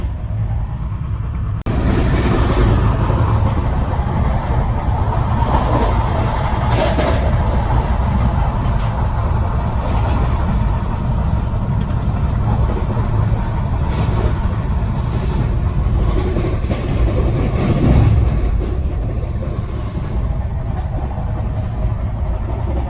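A Rajdhani Express train runs at speed while overtaking the Telangana Express. The rumble and rattle are loud and continuous throughout, with rail clatter and occasional knocks rising over the steady noise.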